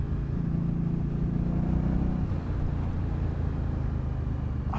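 A 2018 Indian Scout Bobber motorcycle engine rumbles steadily while riding, a loud continuous drone with wind noise and a slight drop in pitch midway.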